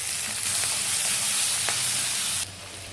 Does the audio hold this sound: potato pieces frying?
yes